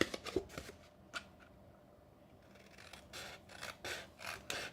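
Paper snips cut up the vertical score lines of a paper box, giving close, crisp snipping clicks. A quieter stretch in the middle gives way to denser rustling cuts toward the end.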